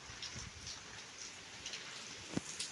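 Steady rain falls over fields during a heavy downpour, a dense even hiss with scattered louder drop impacts, fairly close and continuous without voices.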